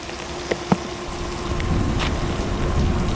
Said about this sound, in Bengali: দেখো ভাই কি লেভেলের বৃষ্টি হচ্ছে